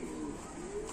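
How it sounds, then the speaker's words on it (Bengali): A pigeon gives a soft, low, rolling coo, faint and close in a quiet room, lasting about a second with no voices. "কবুতরটা খুবই সুন্দর"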